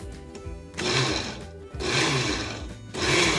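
A blender pulsing pine nuts, olive oil and garlic for pesto, three short loud whirring bursts separated by brief pauses, close up with no talk.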